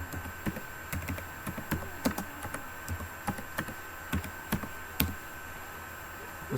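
Fingers type a name into a sign-up page on a computer keyboard, giving a steady run of light, close key clicks at an uneven pace with no talking.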